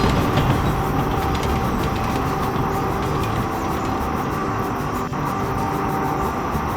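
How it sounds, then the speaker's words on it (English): A train rolls along rails with a continuous, loud broadband rumble and a faint rhythmic clatter, steady and close throughout. "The little electric locomotive shuttled along the rails as best she could"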